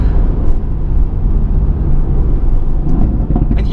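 A 2018 Mercedes-AMG GT with 612 hp, heard from inside while cruising at about 50: a steady, loud low rumble and road roar that holds evenly throughout, with no voices.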